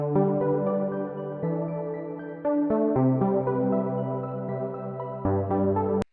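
A halftime, pitched-up synth arpeggio of sustained bright tones steps through a chord sequence, airy and alone, ending with a sharp click.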